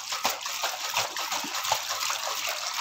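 Ragi, barley and sago porridge with curd sloshes inside a closed, lidded container as it is shaken hard, making quick rhythmic splashing bursts, close and fairly loud, with no talking.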